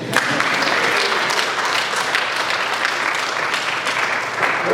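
Audience applauding a choir conductor during a Tumaini Choir appearance on a studio program: dense, steady clapping that stays loud and sustained throughout, with no speech over it.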